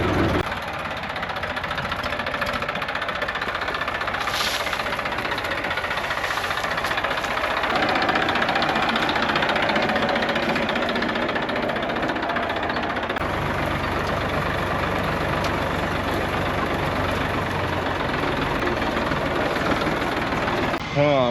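A tractor's diesel engine runs steadily on a coffee plantation, a continuous low rumble with knocking texture throughout, with a person talking over it.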